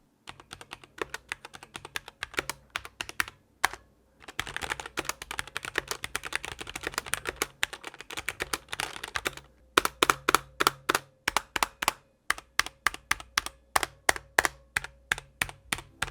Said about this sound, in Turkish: klavyenin sesini, tuş sesini dinletiyorum